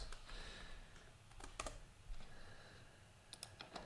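Quiet typing on a computer keyboard as a long login password is entered, with steady soft key clicks and a few sharper taps, heard alone and close.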